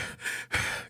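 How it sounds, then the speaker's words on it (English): Heavy breathing and panting from a person who has just rushed in, two loud, close breathy bursts separated by a brief pause, with no speech. "heavy breathing and panting"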